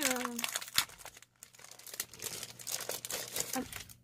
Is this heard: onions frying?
no